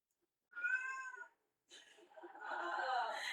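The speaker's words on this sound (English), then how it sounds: "Just realized my cat has just been screaming this entire time." A pet cat screams and meows in two drawn-out, loud yowls close to the microphone, separated by a brief silence, with the second cry lasting longer.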